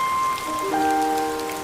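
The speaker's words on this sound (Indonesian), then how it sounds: "Hujan deras tidak berhenti." Steady heavy rain falling on a surface, a continuous broadband wash with a few tonal music lines drifting over it and a brief louder spatter near the end.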